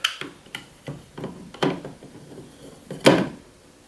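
A 3D printed PLA hangboard is fitted onto a wooden door frame, giving a scattered series of sharp, close knocks and hard plastic-on-wood taps with brief pauses between them.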